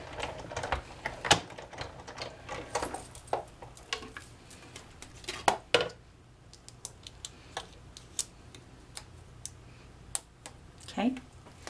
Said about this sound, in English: I'm just going to take the same flower and I'm just going to punch it out